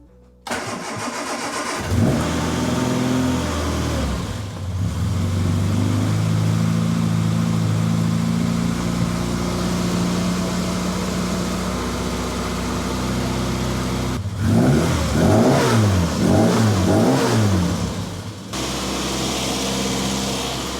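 An MG Midget's engine, its tappets just adjusted, cranks on the starter, catches and runs at a steady idle, then revs rise and fall in a few blips near the end, loud and close with no talking.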